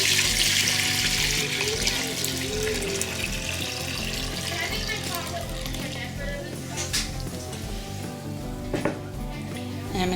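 Tap water runs and splashes while a crock used for making persimmon wine is rinsed out, a steady close rush with shifting gurgles and clatter, and a voice speaks faintly underneath.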